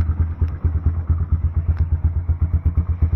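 A Loncin GP 250 motorcycle engine idles loudly through a noisy aftermarket muffler, a close, steady, thumping exhaust pulse with a fast regular beat.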